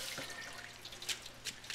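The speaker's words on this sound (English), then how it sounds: "I like to give it a quick rinse under some cold water just to get some of that heat off" Cold tap water runs briefly over hot, steaming cooked shrimp and pasta in a kitchen sink, a close trickle with scattered drips and splashes, no voices.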